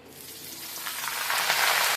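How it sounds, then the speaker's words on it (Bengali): Snake gourd hitting hot mustard oil after a tempering of dried chilli and black cumin, a steady broadband sizzle that builds louder toward the end and cuts off abruptly, with no talking. "পোড়নটা ভালো করে ভাজা হয়ে গেছে এবার আমি চিচিঙ্গাগুলো দিয়ে নিচ্ছি"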